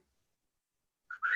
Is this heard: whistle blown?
yes